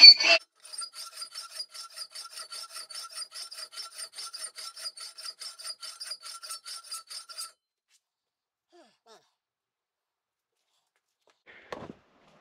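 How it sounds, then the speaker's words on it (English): A hand file rasps steadily across a Honda K20 RBC intake manifold being fitted to an H22, a rapid run of even, bright strokes for about seven seconds, then near silence apart from a faint knock at the end. "I'm just gonna keep filing it till I don't see those marks anymore."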